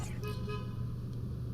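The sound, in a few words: car horn honking outside a building in New York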